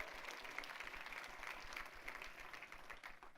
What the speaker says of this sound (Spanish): Den un aplauso al Rey de la Gloria conmigo.